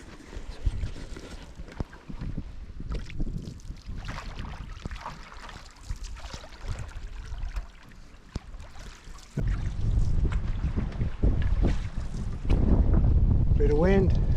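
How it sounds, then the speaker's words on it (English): Wind gusts roar across a calm lake during canoe camping, buffeting the microphone unevenly and swelling louder in the final seconds, with water and paddle noise underneath. "So we're here, we're on the water, bit of wind."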